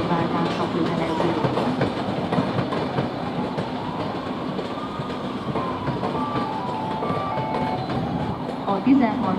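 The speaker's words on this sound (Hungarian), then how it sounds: "A 12. vágányra szerelvényt tolnak." Railway cars are pushed onto a platform track at Budapest Keleti station, giving a steady rolling rumble with faint wheel clatter and a squeal near the end, all under a station loudspeaker announcement.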